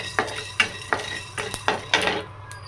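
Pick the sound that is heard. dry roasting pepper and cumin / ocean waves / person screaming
dry roasting pepper and cumin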